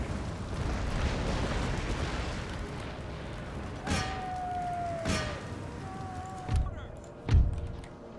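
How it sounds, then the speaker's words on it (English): Howitzer artillery in Empire Total War: a handful of booming shots, each a sharp crack with a low rumble, spaced a second or so apart over a steady battlefield din, the last two heavier and deeper. "More howitzer shots."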